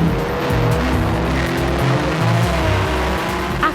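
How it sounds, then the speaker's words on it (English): Banger racing cars roar around the track together, their engines droning and revving up close with a hint of tyre squeal and a brief sharp knock at the very end. "With all the cars crashing around me, I seem to be doing okay."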